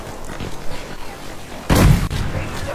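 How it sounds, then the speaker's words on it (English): A grenade detonates in Battlefield 5 with one sudden loud, booming burst after a stretch of softer battle noise, then settles into a lower rumble. "Grenade."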